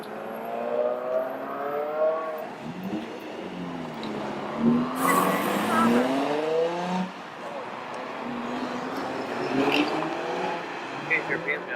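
Cars revving as they leave the Hot Import Nights car show in San Jose in 2018, with rising and falling engine notes from several vehicles passing nearby and a sharp burst partway through. People talk over the engines.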